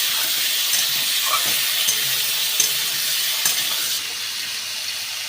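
Salted vegetables frying in a pan for vegetable khichdi, a dense steady sizzle with occasional stirring scrapes and clicks, close and loud, no talking.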